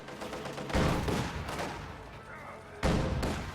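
Heavy machine guns rattle out in short, loud bursts in a World War II strategy video game, with booming impacts rising at about one second and again near three seconds, partly under a commentator's voice.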